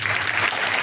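Audience clapping at a spiritual discourse, a brief dense burst of applause from a crowd, loud and even throughout the short moment.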